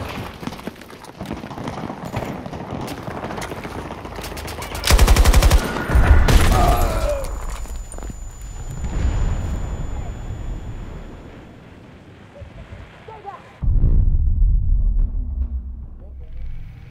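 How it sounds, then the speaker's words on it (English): A grenade blast in the Battlefield video game, a loud booming burst around the middle followed by a second heavy explosion later, set against gunfire, wind and game ambience with voices calling out. "Grenade out!"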